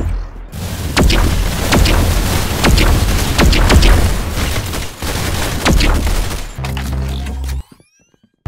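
Gunfire in a Roblox shooting game: rapid, loud bursts of shots and booming impacts crowd together over several seconds, then cut to a brief quieter stretch before stopping abruptly.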